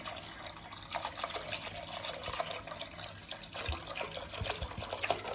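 Water splashes as it is poured over Irish moss in a pot, only partly filling it. The pour is a continuous, fairly quiet gush, close and uninterrupted.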